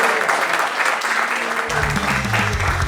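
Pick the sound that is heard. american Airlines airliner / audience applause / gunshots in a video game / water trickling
audience applause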